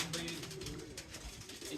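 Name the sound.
pigeons cooing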